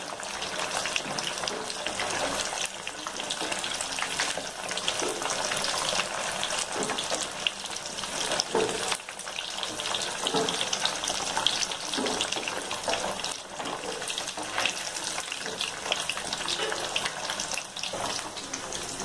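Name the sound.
paneer frying in a pan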